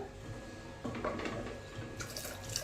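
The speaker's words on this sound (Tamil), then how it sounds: "இப்போ நம்ம அந்த தண்ணி மீத உள்ள தண்ணியை ஊற்றிக்கலாம்" Water is poured into a pot of green tomato dal in a soft, steady trickle with light splashing, quiet and close, with no voices.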